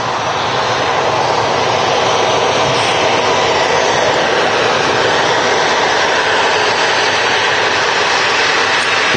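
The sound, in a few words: Ryanair UK aircraft arriving from Tenerife at Manchester Airport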